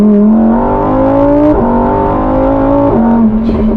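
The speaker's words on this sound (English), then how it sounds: "I love the way it feels, the way the downshift sound." A sports car engine drones loudly at steady pitch, with two quick downshifts as the revs step down, close and continuous throughout.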